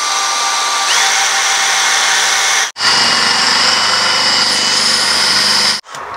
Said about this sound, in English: So let's drill a hole and see what difference it makes.